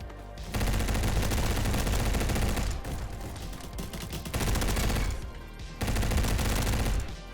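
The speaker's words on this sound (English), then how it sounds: "That's a shotgun, yep." Rapid repeated gunfire in Roblox Bad Business on a close-quarters factory map, loud dense volleys in three long bursts separated by brief gaps.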